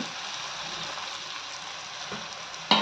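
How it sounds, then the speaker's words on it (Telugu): Sliced eggplant pieces drop into a pan of simmering onion-tomato curry, giving a steady close sizzle and frying hiss, with a sharp clatter and louder burst near the end as they land. "ఇలా నిలువుగా కట్ చేసి పెట్టుకున్నాం కదా వంకాయ మొక్కలు ఇవి కూడా వేసుకోవాలి"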